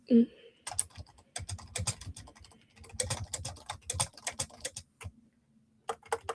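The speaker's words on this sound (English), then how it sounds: "if I can learn how to type" Typing on a computer keyboard during a livestream, a close run of rapid clicking keystrokes in bursts with short pauses, alone without talk.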